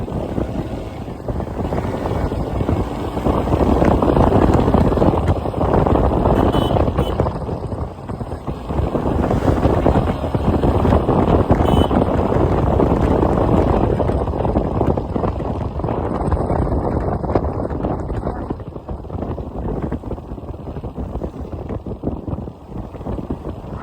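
Wind rushes loudly against the microphone in rising and falling gusts over a low engine rumble from a Hero XPulse 200 motorbike moving at speed.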